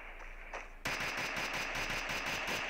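Rapid automatic gunfire in the Free Fire mobile battle-royale game, a faint shot or two followed by a sudden, sustained, loud burst of fast repeating shots that carries to the end.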